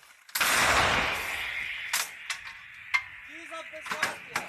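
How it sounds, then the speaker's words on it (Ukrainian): An M777 howitzer fires a single heavy boom that rolls into a long noisy roar, followed by scattered sharp cracks and clatter outdoors. "Постріл!"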